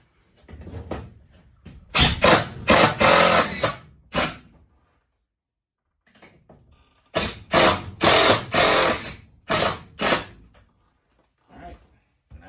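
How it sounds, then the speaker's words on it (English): A power driver runs screws in to mount an electrical breaker in a tiny house, giving two bursts of loud, close whirring and ratcheting with a brief pause between them and no voices. "I've just got the screws just set in there to hold it in place, and now we're just gonna run those in"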